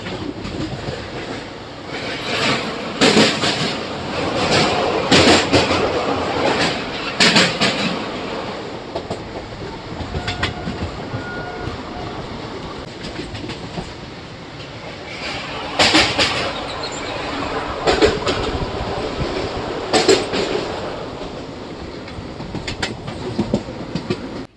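A train rumbles through an 800-metre tunnel in hilly country, its wheels clattering in a loud, continuous roar broken by sharp bursts and rattles, with no one speaking.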